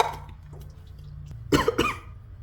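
A person coughs twice in quick succession, close and fairly loud, after spraying too much perfume, with a low steady hum underneath.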